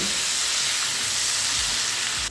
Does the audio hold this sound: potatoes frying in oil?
yes